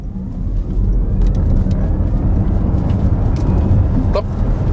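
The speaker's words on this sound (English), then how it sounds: "this is a good straight to test the acceleration again" Jaguar I-PACE electric car accelerating hard from standstill on a straight road, heard from inside as a rising broad rush of road and wind noise that builds and holds loud throughout.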